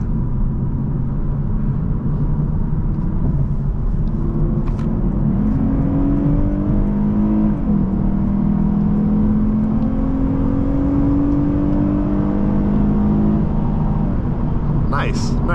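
A 2024 Lexus IS350 AWD heard from inside as it accelerates, with a steady loud engine rumble and whir rising in pitch through the run and road noise underneath.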